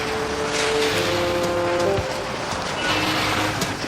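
A car pulling away, its engine running as a loud steady drone that stays close throughout, with broadband road or wind noise and no voices.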